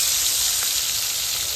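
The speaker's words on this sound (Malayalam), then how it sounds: "ചെമ്മീൻ പൊരിക്കാണ്" Prawns fry in hot oil on a night camping trip, a loud, dense sizzle that holds steady and close for the whole moment without talk.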